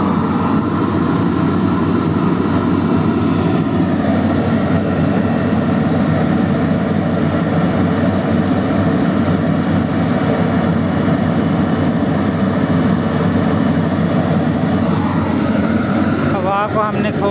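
A burner's air blower runs with its airflow turned up, producing a loud, steady, close roar and whoosh that stays constant throughout with a faint whine near the end.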